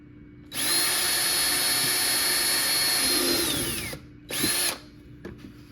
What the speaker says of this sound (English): I'm going to go ahead and start drilling